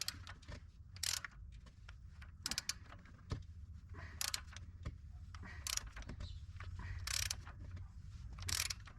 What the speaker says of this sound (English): So grab a 22mm socket, and we need to turn the crankshaft in the operating direction